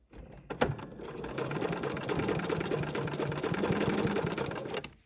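Embroidery sewing machine stitching in one continuous fast, rhythmic run, close and loud, starting after a sharp click and stopping abruptly at the end.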